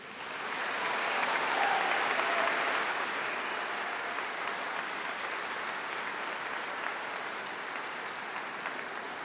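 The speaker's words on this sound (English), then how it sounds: "So please give them a big round of applause." Sustained applause from a large audience at a university graduation ceremony fills the hall, a broad, even wash of clapping that swells early and holds steadily.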